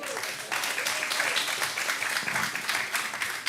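Audience applause at a pints-and-politics gathering, a steady dense wash of clapping from a crowd lasting several seconds, fairly close and loud, with no talk over it.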